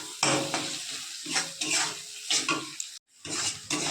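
Ginger-garlic paste and ground spices are stirred and sautéed in hot oil for chicken, with bursts of sizzling and spoon scrapes against the pan broken by short pauses.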